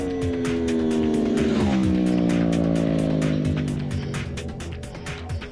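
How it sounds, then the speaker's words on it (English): An Aprilia RSV4 V4 sport motorcycle engine roars close by, revs rising then easing off with a throaty exhaust and induction rumble and rapid crackling pulses. "the sound from the exhaust and the induction really do get you going"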